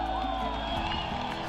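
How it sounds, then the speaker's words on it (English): Large crowd cheering and clapping at the Wagah border gate opening ceremony between India and Pakistan, a dense, steady roar of voices and applause filling the whole moment with no break. "Opening of the gates was welcomed by huge cheers and clapping of the crowd on both the sides"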